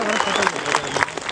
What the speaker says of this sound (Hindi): गोटा जोरदार करताली